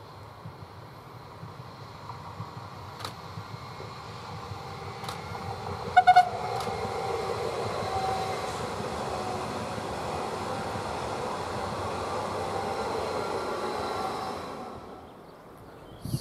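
A regional train running down from the Brenner Pass toward Merano swells into a steady, broad rumble and roar as it passes, then fades away; a couple of faint high tones appear early on.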